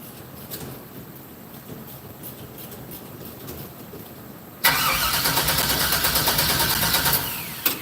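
A 1964 GMC truck engine with a Holley carburetor is cranked on a low battery near 10 volts, a quiet mechanical churn that jumps to a loud, dense, steady cranking or running roar midway and holds before tapering off.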